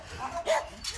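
A shelter dog gives a short yelp or bark, near and fairly loud, lasting under a second against faint background noise.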